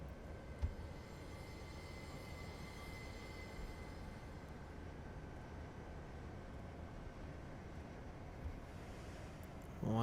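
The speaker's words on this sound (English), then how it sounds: "Coming a little hot there, so gonna hit the train brake again." A CSX SD40-2 locomotive in Train Simulator 2019 applies its train brake, giving a steady, even rolling rumble with a faint high tone over about ten seconds and a brief burst at the end.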